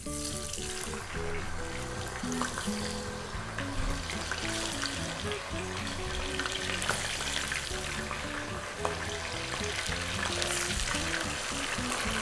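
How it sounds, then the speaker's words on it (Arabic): Chicken pieces frying in hot oil in a home kitchen until golden, a dense, steady sizzle and crackle that fills the whole stretch, loud and close with no voices. "الدجاج رح نحطه بالزيت نقليه لحتى نعطيه لون ذهبي"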